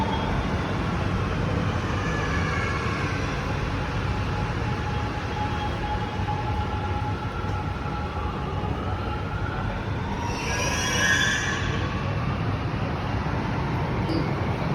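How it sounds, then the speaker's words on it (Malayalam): A Mumbai Aqua Line underground metro train arrives at high speed with a loud, continuous rumbling roar that fills the whole stretch, and a brief high-pitched squeal rises near the end. "നല്ല ഹൈ സ്പീഡിൽ വരുന്നതാണ് അണ്ടർ മെട്രോ, മുംബൈയിലെ അക്വ ലൈൻ അണ്ടർ മെട്രോ."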